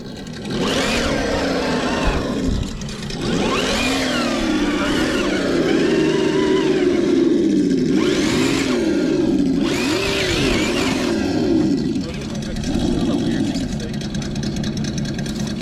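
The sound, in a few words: Traxxas TRX4 RC crawler motor driving over rocks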